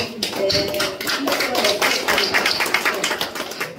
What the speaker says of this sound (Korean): 우리 모두 다 우리 축하의 박수